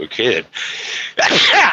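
A person sneezes sharply indoors, followed by a second explosive sneeze, with a brief spoken word between them, all close and loud.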